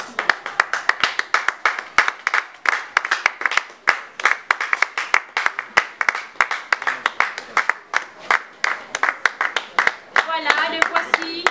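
Rhythmic applause welcoming guests at a community gathering, a crowd clapping in steady unison beats throughout, loud and close, with a voice speaking briefly over the clapping near the end.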